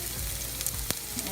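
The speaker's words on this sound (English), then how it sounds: "I'm going to use some olive oil. So I add onion" Chopped onion sizzles steadily in hot olive oil in a pan for kimchi fried rice, a close, continuous crackling fry with a few brief stir-like clicks and no talk.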